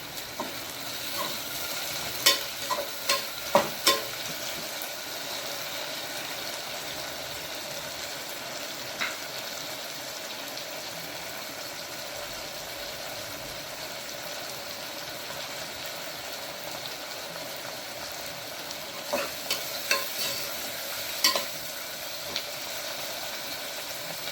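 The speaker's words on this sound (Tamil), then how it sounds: "இப்போ நல்ல வெங்காயம் நனைஞ்சி வச்சு தக்காளி சேர்த்துக்கலாம்." Onions and tomatoes fry in a pan for a mutton gravy, a long, even sizzle at moderate distance with clusters of sharp spoon taps and stirring knocks near the start and end.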